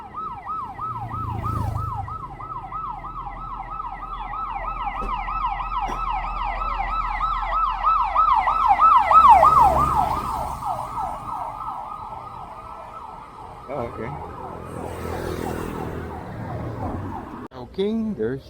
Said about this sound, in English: This is my my first encounter with an ambulance today.